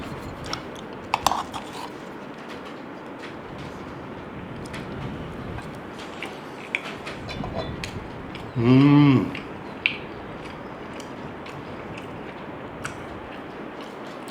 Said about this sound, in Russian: пробую я это блюдо, эту грузинскую котлету Первый раз